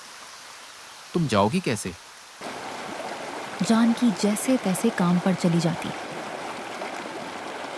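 Steady rain and rushing floodwater fill a waterlogged settlement with a continuous hiss that carries underneath two animated voices talking.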